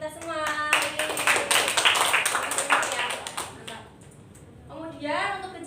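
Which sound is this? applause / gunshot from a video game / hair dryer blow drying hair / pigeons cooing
applause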